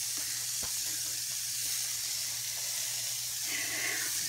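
Saltine-crumb breaded schnitzel sizzles in hot margarine in a pan, a steady close hiss and crackle with a few faint pops and no talking.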